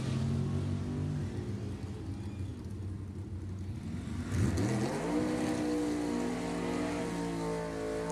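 A 1967 Camaro and a 1955 Chevy idling at a nostalgia drag race, then engines revving and roaring off the line about halfway through, loud and rising in pitch, no talk.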